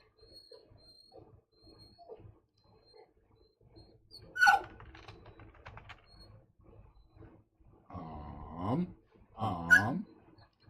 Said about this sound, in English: Funny dog.